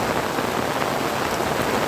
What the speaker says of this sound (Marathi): जोराचा पाऊस सुरू झाला आहे. पाऊस चालू झालेला आहे